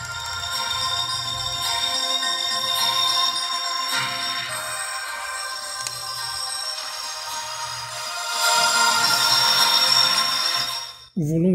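Music streamed from a phone over Bluetooth through a Pioneer DEH-7250SD car stereo, a steady tonal melody with a repeating beat that swells louder near the end before cutting off abruptly.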